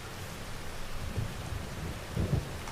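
Rain falls in Farming Simulator 25 while thunder rolls low and close, with two deep rumbling swells rising over the steady patter of the downpour.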